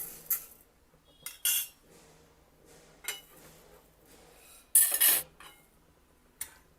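A spoon scrapes and clinks against a metal pan in scattered bursts as roasted urad dal is moved into a bowl, with quiet pauses between the sharper scoops.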